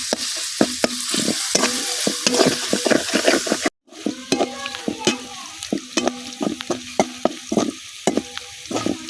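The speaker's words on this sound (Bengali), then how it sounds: "এখন পেঁয়াজ আর কাঁচামরিচ গুলা কিছুক্ষণ ভাজা নেম।" Onions and green chilies fry in hot oil, stirred with a spatula that scrapes and clacks against the pan in an irregular rhythm over a steady sizzle; close and fairly loud, no speech.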